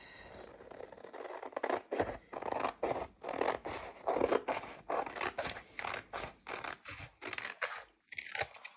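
Scissors snip through vinyl in a quick run of crisp, scratchy cuts, each stroke close and distinct with short pauses between.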